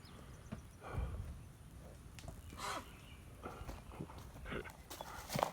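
Cattle moving and shuffling around a parked truck in a hot summer pasture, with scattered soft hoof thuds and rustling at close range, under occasional voice and some low background noise.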